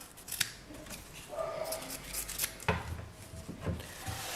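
Scissors snip and rasp through excess fabric on a homemade makeup pouch, producing quiet, close, irregular cuts and rubbing sounds.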